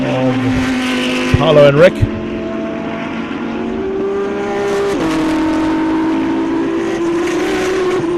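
Race cars, among them an Audi R8 and BMWs, roar through a circuit race, with engines revving and shifting loudly and a brief squeal of tires, all under a commentator's voice.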